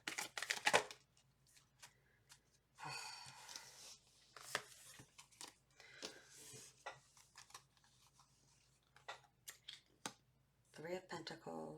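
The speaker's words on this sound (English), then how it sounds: "2 more shuffles." Tarot cards are shuffled in several short, papery riffling bursts close to the microphone, separated by pauses, with quiet handling noises in between.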